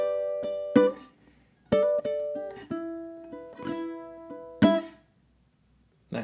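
Slow blues picked on a ukulele, with bright plucked notes and short phrases separated by brief pauses, played alone and close up with no talking.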